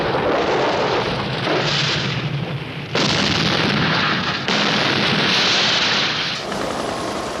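Artillery fires at transmitters in a wartime setting, heavy sustained booming and rumbling in long overlapping blasts, loud and dense, with no talking.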